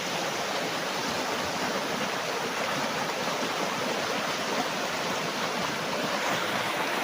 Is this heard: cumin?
no